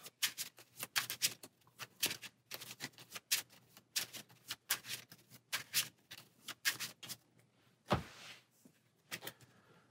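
Playing cards for a Marvel Champions card game are shuffled up close, a run of quick crisp riffling bursts and slaps repeating irregularly, with a heavier thump near the end and no talk.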